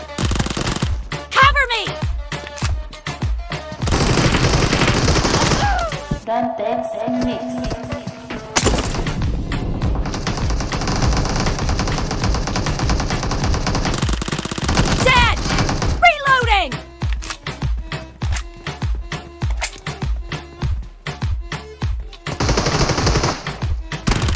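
Rapid automatic gunfire in a PUBG Mobile team deathmatch, with long sustained bursts and scattered single shots. It is loud and constant, with players' voices talking over it.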